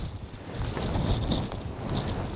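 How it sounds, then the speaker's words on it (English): Strong wind gusting across a microphone on a steep winter mountain climb in the Lake District fells, a loud rumbling buffet that swells and eases over a couple of seconds, with no voice. "That wind has really picked up"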